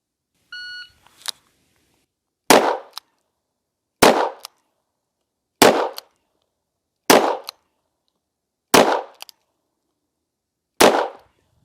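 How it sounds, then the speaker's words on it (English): A shot timer beep followed by six sharp gunshots from a .40 S&W revolver at the range, spaced about one to one and a half seconds apart, loud and close with short decays and silence between. "6 shots with 40 Smith & Wesson, all headshots at 10 yards"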